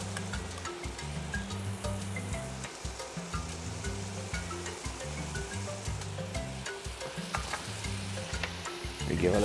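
Split peas and rice with saffron and black pepper sizzle in a pot while being stirred, a continuous close frying hiss with rhythmic scraping stirs and no talking.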